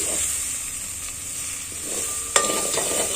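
A chili mixture bubbles and simmers in a pan under a steady hiss, with one sharp spoon scrape against the metal near the end, close and without talk.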